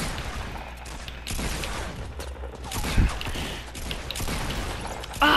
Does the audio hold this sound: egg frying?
no